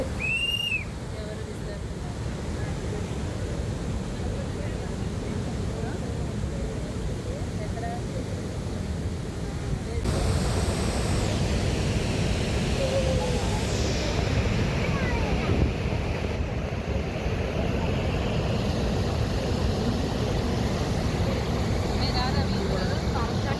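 Athirappally waterfall thunders with heavy monsoon flow, a loud steady broadband roar that stays constant throughout with a faint whistle near the start; no voices are clear over the water.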